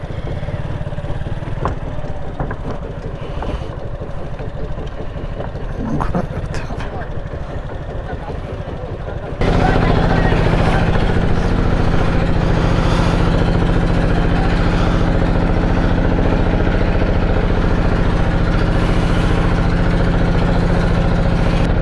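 A ferry boat engine drones loud and steady while crossing a river, the heavy low rumble jumping up partway and then holding constant to the end.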